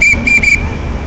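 A shrill whistle at a street protest gives three quick blasts in a row, loud and close, then stops, leaving low background noise.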